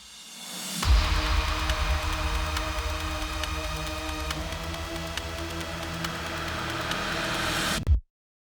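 A reverse crash with a snare swells in a broad noisy wash, building steadily for several seconds before cutting off sharply with a final hit, alone and loud, in an electronic metal production.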